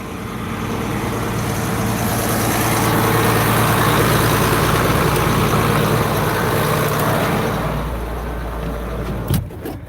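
A farm tractor idles steadily during harvest loading, its low, heavy engine drone continuous and loud for the whole stretch before fading slightly, then a couple of sharp knocks at the end.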